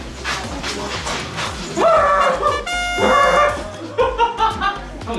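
A small dog barks and yips in short bursts close by, mixed with background music and some voices.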